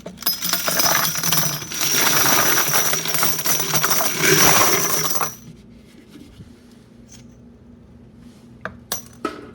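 Brass .44 Magnum cartridge cases are tipped into a wet tumbler, making a dense, bright metallic clatter for about five seconds that ends abruptly, followed by a few faint clinks.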